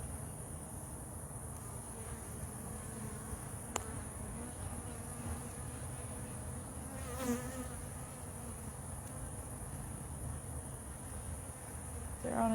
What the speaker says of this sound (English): There's quite a few bees up here.